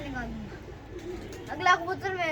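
A pigeon from a prized loft setup coos softly beneath people talking nearby.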